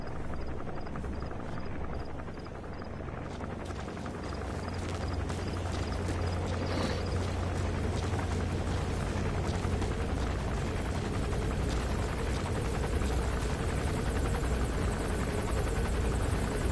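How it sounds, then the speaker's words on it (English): An enemy gunship helicopter in Metal Gear Solid V drones loudly and steadily throughout, with dense rotor thrum and engine noise filling the scene and faint ambient clatter beneath, and no voices. "That's an enemy gunship."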